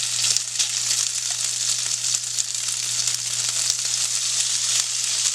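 Pasta-mixture patties fry in hot oil in a skillet on a stove at medium-high, giving a steady, close, dense sizzle and crackle that runs unbroken throughout with no talking.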